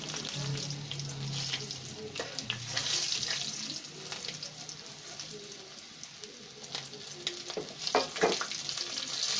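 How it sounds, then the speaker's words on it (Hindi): Chicken strips deep frying in hot oil for crispy broast-style tenders, a continuous bubbling sizzle with occasional clinks, moderately quiet and close, with no voices. "अंदर तक जो है ना हमारा चिकन जो है ना फ्राई हो रहा है।"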